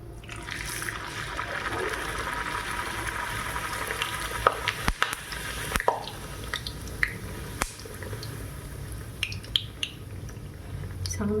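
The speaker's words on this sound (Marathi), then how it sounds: "त्यामध्ये आता मी एक पुरी ॲड करते." A single puri fries in hot oil on a medium gas flame, a soft steady sizzle and bubbling with scattered small pops and crackles, faint and continuous throughout with no voices.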